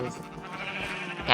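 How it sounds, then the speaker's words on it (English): A lighter-textured sheep bleats in a Minecraft-style game server, a single short wavering cry close up, with a brief louder burst at the end. "Lime sheep are a lot lighter in this texture pack, and look at them all just trotting around"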